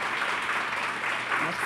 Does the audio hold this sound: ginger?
no